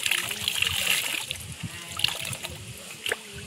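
Winter shoes being washed with water, splashing and trickling close by in a steady, irregular patter that fades somewhat toward the end, with faint low background sounds.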